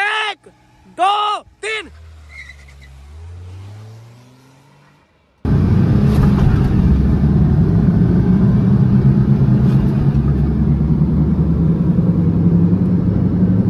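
A Chevy Beat diesel hatchback pulls away in first gear, its engine rumbling loud and close in a steady drone after someone speaks inside the cabin over a quieter idle.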